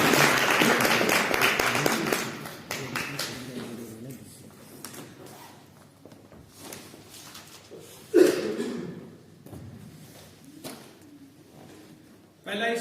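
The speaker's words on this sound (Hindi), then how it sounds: "तालियां हो जाए।" Seminar audience clapping at a biomagnetic wellness event, a burst of applause loudest in the first two seconds and then fading, with voices murmuring afterward and a sharp knock near the middle.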